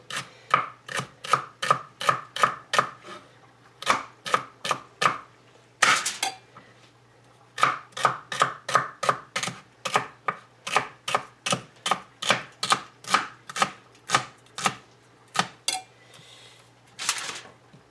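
Knife chopping celery stalks on a cutting board, a fast run of crisp, evenly spaced thuds with two brief pauses, close and clear, no talking.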